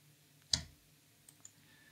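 A single sharp computer mouse click, close and crisp in a quiet room, followed by two fainter clicks a moment later during photo editing in Capture One 21.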